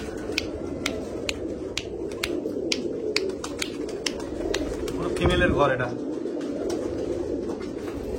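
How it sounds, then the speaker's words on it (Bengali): Pigeons coo softly in a large loft in Kolkata, with scattered sharp clicks and wing taps throughout, while someone talks close by. "এখানে একটা পায়রা এসে বসে আছে আমার গায়ের কাছে"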